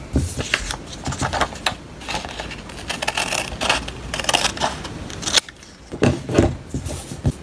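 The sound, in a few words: cutting paper along a line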